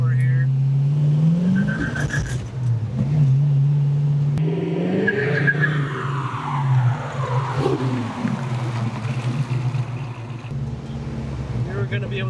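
A fuel-injected S Code 390 V8 in a 1967 Mustang Fastback with a 4-speed revs and accelerates hard, pitch rising and falling through gears, with some tire noise and a voice speaking over it.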